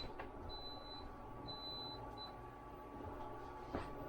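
Three high-pitched electronic beeps from a Victron battery monitor display's low voltage alarm, two longer and one short, sound faintly over a quiet background hiss.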